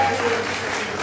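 Brief burst of audience clapping at a graduation ceremony, steady dense applause over a low hum, with a faint voice or tone at the start.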